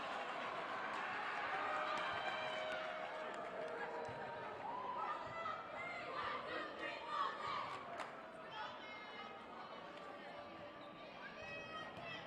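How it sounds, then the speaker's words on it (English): A lively home crowd at a girls' volleyball match cheers and shouts in a large gym, a steady roar of voices swelling and fading, with a commentator's voice partly over it. "We have a very active crowd today for Revere."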